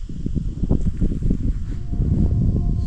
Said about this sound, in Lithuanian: Didelis vėjas